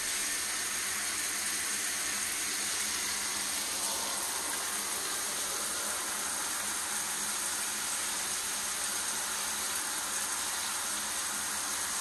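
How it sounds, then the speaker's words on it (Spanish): Water from a shower head pours steadily onto a flexible, quiet shower tray, making a continuous close hiss and splash with no pauses and no voices. "gran parte de los decibelios que me va a captar serán producidos por la alcachofa de la ducha"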